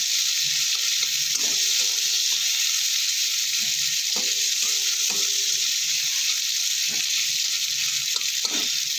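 Chopped onion, cumin and green chili frying in a pan, a constant loud hiss of sizzling oil with a few faint stirring clicks beneath it, no one talking.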